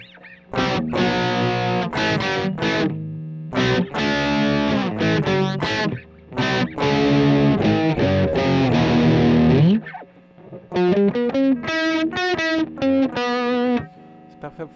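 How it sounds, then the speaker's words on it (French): An electric guitar runs through a Marshall Jubilee amp simulation on a distortion preset, playing loud, crunchy riffs and chords in bursts separated by brief pauses. "on va avoir déjà une distorsion parce qu'elle est déjà pré-réglée avec un preset avec une distorsion"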